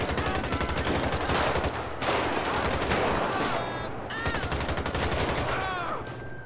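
Rapid bursts of gunfire from a SWAT shootout in GTA 5 with the LSPDFR police mod, dense and continuous with overlapping shots and a few sharp ricochet-like whistles throughout.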